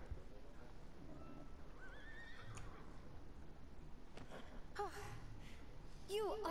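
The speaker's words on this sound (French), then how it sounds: "Ah ben oui, le cheval qui court après." A horse whinnies loudly twice in Kingdom Hearts III, each neigh rising and falling in pitch, with faint hoofbeats and game ambience beneath.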